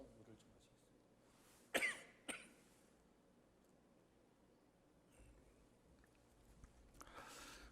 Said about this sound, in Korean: 기침이 나서